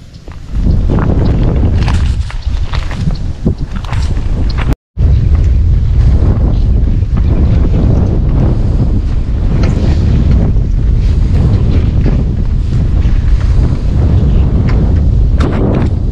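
Strong wind roars and buffets against the microphone continuously outdoors during fishing, a loud, rumbling, gusty rush with no voices.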